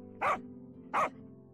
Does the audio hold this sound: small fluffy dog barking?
yes